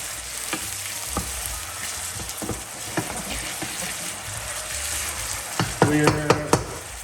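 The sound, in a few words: onions frying and being stirred in a pan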